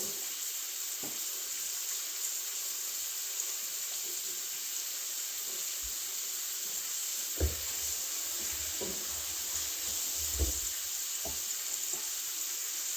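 Redfish frying in a hot pan, a steady close sizzle and hiss running throughout, with a few soft knocks and bumps of handling underneath.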